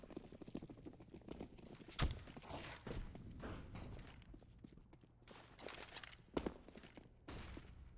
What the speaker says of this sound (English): going to hear those footsteps in the Apps position